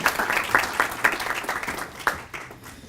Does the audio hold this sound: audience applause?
yes